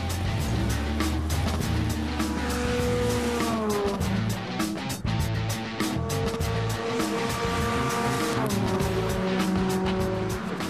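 A petrol-powered low-cost race car laps a motorsport circuit, its engine note rising and falling through gear changes as it passes, loud and continuous with no one speaking.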